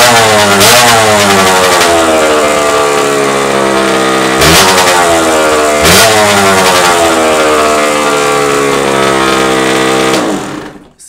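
A 1983 Suzuki RM80 two-stroke dirt bike engine buzzes loud and close, revving up and down in several sweeping blips over a steady high-pitched drone before cutting off at the end.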